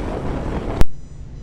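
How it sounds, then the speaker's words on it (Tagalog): Strong wind batters the microphone during a motorcycle ride, a loud, rough roar that ends abruptly with a sharp click and leaves a much quieter hiss. "Medyo malakas ang hangin dito."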